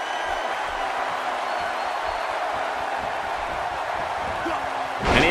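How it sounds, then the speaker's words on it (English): A dense arena crowd roars and cheers nonstop in a WWE 2K18 wrestling triple threat match in Pontiac, Michigan, a loud broadband wash with a sharp burst of noise swelling at the very end. "I can barely hear myself think over this crowd here in Pontiac"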